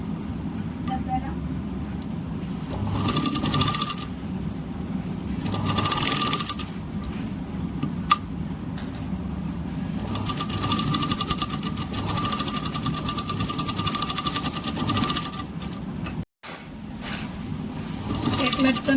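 A sewing machine double-stitches a blouse in repeated runs of rapid mechanical clatter, starting and stopping with brief pauses, close by, with someone talking over parts of it.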